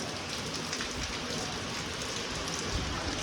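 Steady rain pours down in a cold outdoor setting, a dense, even hiss of drops on surfaces that holds at the same level throughout without any talking.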